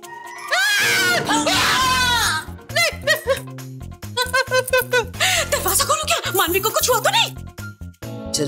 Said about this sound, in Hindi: अरे क्या हुआ, क्यों चिल्ला रही हो?